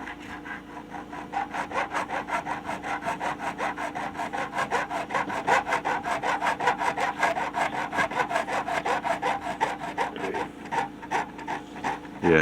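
A file rasps back and forth across guitar fret ends against the wood in a rapid, even rhythm of scratchy strokes, loud and close, continuing for the whole stretch with no talk.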